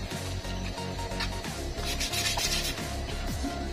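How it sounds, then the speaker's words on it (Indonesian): Continuous close-up scratchy rubbing of 360-grit sandpaper worked back and forth over thin black paint on a Toyota Avanza interior part at a steady pace. "Kita amplas dengan ukuran 360"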